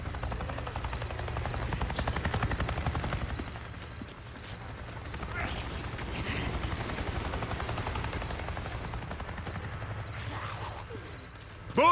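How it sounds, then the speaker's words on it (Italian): Helicopter from the Nero faction in the video game Days Gone, a steady low rotor rumble sustained across the whole stretch, swelling and easing slightly as it passes overhead, with game ambience and scattered thumps mixed in. "Un elicottero della Nero! Mi è appena passato sopra"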